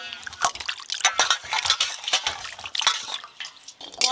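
Peeled peanuts are washed in water in a kitchen, with continuous splashing, swishing and dripping up close and loud, broken by light knocks against the bowl.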